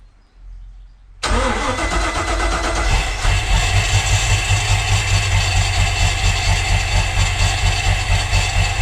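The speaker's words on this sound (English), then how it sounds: "the engine started, just died again" A Volvo Penta 5.0 GXi marine engine with a start and idle problem cranks and catches abruptly, then runs loud and close with a pulsing, uneven idle.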